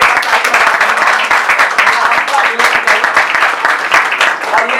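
Audience applause at an open mic poetry event, a dense steady clapping from a crowd lasting throughout, close and loud.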